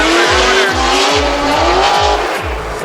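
A drift car initiates a drift at a Las Vegas, Nevada drifting event, its loud engine pulsing rhythmically beneath sustained, rising tire squeal, close and continuous throughout.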